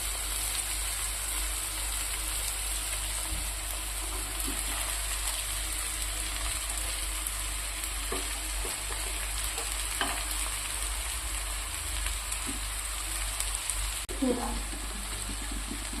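Chopped cabbage and softened tomato fry on a low gas flame for cabbage palya, giving a faint, continuous sizzle with occasional soft scrapes of stirring throughout.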